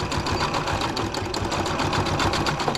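A sewing machine stitches fabric for a sweatshirt neckband, a close, steady rapid mechanical chatter with even rhythm and no speech.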